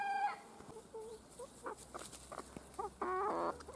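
Backyard hens and young roosters cluck and squawk at a moderate distance, with several overlapping calls and a louder cackling burst near the end amid faint outdoor ambience.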